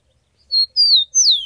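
Free, uncaged rufous-collared sparrow (tico-tico) singing close and clear, three bright whistled notes in quick succession after a brief quiet start, no voices.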